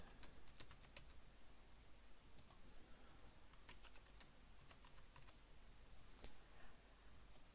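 Steady keyboard typing on a computer as a new password is entered during a manual WordPress install: a continuous run of light, quick key clicks at close range, with no talking.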